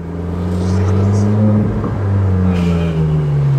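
A Ferrari 458 engine, in rare grey with very low mileage, revs loudly and close by, a steady deep roar that rises and falls with a faint voice beneath.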